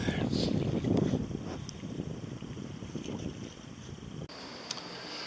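Paddling a boat on the Volga River in Russia, with faint rhythmic paddle splashes and water sloshing close by, heavily masked by gusting wind buffeting the microphone throughout.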